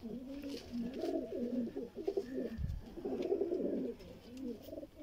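Sialkoti red-pearl pigeons kept for breeding coo in a steady run of soft, throaty, rolling calls close by, overlapping and continuing throughout.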